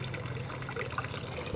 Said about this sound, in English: You pour just a little bit on your hands and a little bit on your other hands.